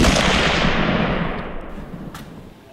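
Black powder ignites on a Tesla battery with a sudden loud whooshing burst that starts at full strength and fades away over a couple of seconds.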